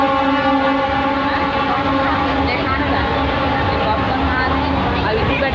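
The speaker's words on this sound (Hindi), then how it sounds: "पहली बार ट्रेन चलती संगवारी हो" A passenger train runs steadily on its tracks on a first trip during a Navratri fair outing. A constant loud rumble and rattle carries through the whole span, with tonal hums over it and voices mixed in.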